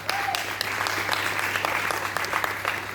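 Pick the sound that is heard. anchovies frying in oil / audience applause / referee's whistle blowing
audience applause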